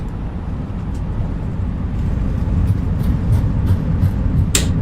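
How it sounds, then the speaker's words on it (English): Reverse thrust from an FBW Airbus A320 in Microsoft Flight Simulator during the landing roll: a steady, broad roar that swells gradually over a few seconds. "Reverse thrust."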